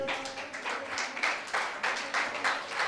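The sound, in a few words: audience applause at an honouring ceremony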